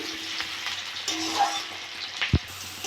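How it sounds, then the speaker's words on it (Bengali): Onions with green and ripe red chillies frying in oil in a pan, a steady close sizzle with a brief clunk near the end; no talk. "পেঁয়াজটা ভালো করে ভেজে নিয়েছি।"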